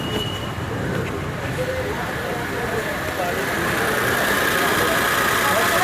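A Datsun Go+ engine runs at idle after starting, a steady mid-pitched hum close by that grows slightly louder toward the end, while someone talks over it.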